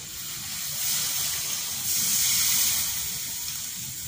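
Water gushes steadily into a pot of chicken tinola with a bright splashing hiss, the pour swelling and easing a couple of times.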